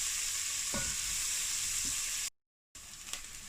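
Two batches of onions cooking in a pan for a venison ragu, a continuous close sizzle and hiss with a couple of soft stirring knocks, cut by a short silent gap before the frying resumes.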